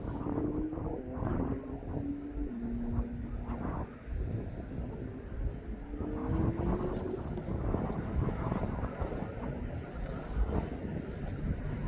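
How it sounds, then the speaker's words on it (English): A Jet2 airliner arriving from Ibiza descends toward the runway at East Midlands Airport, a steady broad roar with a low engine drone running continuously throughout, heard from a distance outdoors. "I'm going to turn the camera onto that arrival from Ibiza as it's making her way down to 27"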